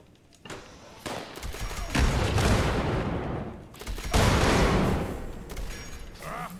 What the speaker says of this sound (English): It looks nice to see all the explosions.